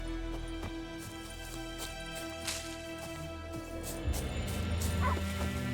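A dog in The Witcher 3 barks in a few short yips and whimpers against a dense, constant wash of game ambience and music, moderately close.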